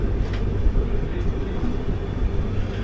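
The 12027 Shatabdi Express running between Chennai and Bengaluru makes a steady, loud low rumble of rolling wheels and carriage noise that continues without a break.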